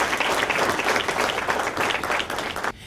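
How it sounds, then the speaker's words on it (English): An audience at a chamber of commerce luncheon applauds the caterers, dense sustained clapping from a crowded room that stays strong and then cuts off abruptly near the end. "Can we just give a round of applause to Heller Catering?"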